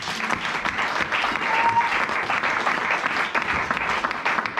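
A church congregation applauds in a steady, sustained wave of clapping from many hands, filling the room evenly for the full stretch without a break.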